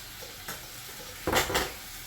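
A spoon scrapes and swishes through a squid ink pasta sauce with white wine in a pan, two short bursts of stirring, the second louder and longer, with faint sizzling between.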